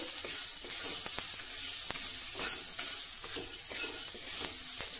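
Okra seeds roasting in a little oil in a pan, a steady loud sizzle with repeated scraping knocks of a spoon stirring at an uneven rhythm.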